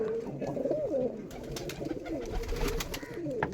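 Giribaz pigeon cooing close by in a few soft, warbling, rolling calls, with light background noise and no talk.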